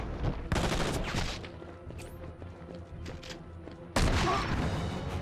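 Shotgun blasts in the video game Enter the Matrix, two loud bursts separated by a few seconds, each trailing into rattling, clattering noise and a low rumble.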